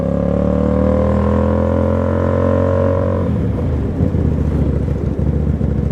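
A 250cc motorcycle is ridden toward a freeway, with a loud engine drone rising in pitch and then shifting into rougher, fluttering revs, plus heavy wind rush throughout.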